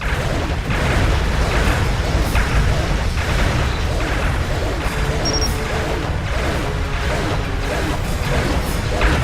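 A Borg vessel blows apart in the Star Trek Legacy space combat game, a loud rolling crash with bursts and whooshing debris that swells and fades repeatedly over a steady roaring bed.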